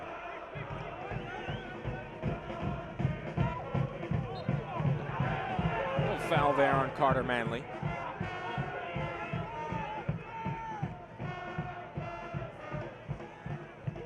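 A supporters section in the stands at a Forward Madison FC soccer match keeps up rhythmic chanting and drumming, with crowd noise swelling midway, under steady commentary.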